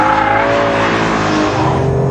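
A BMW M3 is driven on a track in sport mode with DSC off. Its engine drones loud and close and holds a steady, strong tone, with a harmonic whine that shifts slightly under load. The engine is heard alone, without talk.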